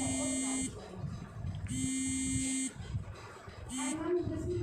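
An electric alarm buzzer on a school science-exhibition landslide warning model sounds in three loud, steady buzzing bursts of about a second each, separated by short pauses filled with faint room noise.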